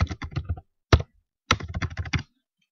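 Quick bursts of typing on a computer keyboard, close and crisp, with a short run of keystrokes, a single sharp tap after a pause, then another rapid burst of clicks.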